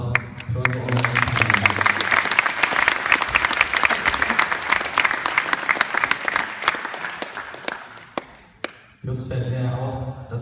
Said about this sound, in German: einen großen Applaus für unsere Umgebung